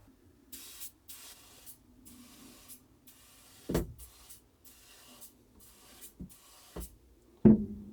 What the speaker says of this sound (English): So I'll be spraying that side and the other side.